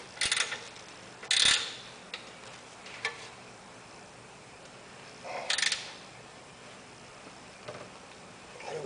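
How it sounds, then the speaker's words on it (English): A ratcheting wrench tightens a nut during an electric vehicle conversion, giving a few short, quiet clicking bursts at irregular intervals against a faint background. "I use these ratcheting wrenches a lot."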